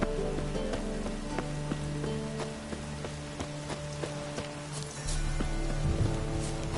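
Rain in The Witcher 3 patters steadily on surfaces with scattered drops, under a low ambient hum and occasional knocks, with a louder low rumble near the end.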